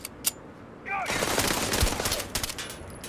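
Gunfire in Starfield, a rapid burst of loud shots and cracking impacts after a brief quiet moment, with a voice heard talking near the start.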